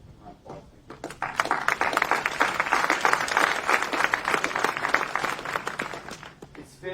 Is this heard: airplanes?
no